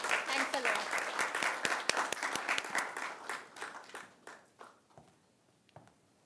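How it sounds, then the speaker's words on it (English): An audience applauds at a lecture on direct taxation: a dense round of clapping that gradually thins into scattered individual claps and fades out. "So a big round of applause for that."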